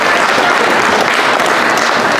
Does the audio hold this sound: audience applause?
yes